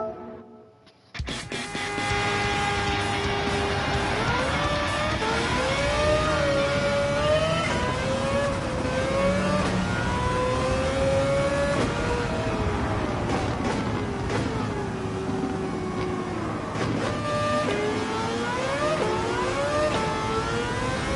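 A Mazda RX-8 with a swapped engine in Gran Turismo 7 revs loudly and continuously, its pitch climbing and dropping through gear changes for about twenty seconds with no talking.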